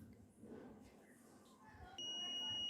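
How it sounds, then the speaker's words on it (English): A buzzer wired to a NodeMCU board with an IR sensor switches on partway through as a finger nears the sensor, giving a steady, piercing electronic tone that holds to the end after quiet room noise. "So whenever the finger is moved near the IR sensor, LED is on and buzzer is also on."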